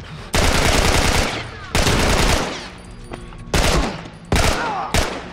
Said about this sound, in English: Shooting him in the chest, probably not ideal.